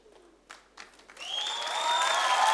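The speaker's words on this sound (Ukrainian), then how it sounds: "Бонні Тайлер, ваші оплески!" A studio audience at a televised X-Factor show bursts into applause for Bonnie Tyler, swelling from scattered claps into a dense, sustained ovation.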